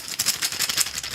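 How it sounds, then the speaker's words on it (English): Fish tokens from the Stardew Valley board game shuffled in a bag, a quick run of close, bright clacking rattles with no talk. "shuffle this up real fast and draw another fish"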